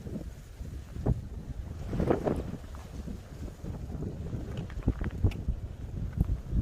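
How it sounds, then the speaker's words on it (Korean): Strong, gusting wind on the Podae ridge of Dobongsan mountain in snowy winter conditions, a steady roar buffeting the microphone with louder surges throughout, no voices. "바람이 너무 세져서 잠잠할 때까지 기다렸다가"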